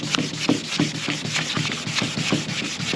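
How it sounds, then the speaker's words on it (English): Steady back-and-forth rubbing of wet sandpaper on a boat's hard gel coat in a crisscross pattern, rhythmic strokes repeating several times a second, close and continuous with no talking. "just in a crisscross pattern, consistently start wet sanding."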